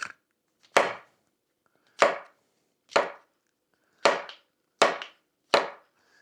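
A knife chops herbs on a cutting board while preparing a herb-crusted sea bass, with seven crisp, separate knocks spaced unevenly, close and clear against near silence.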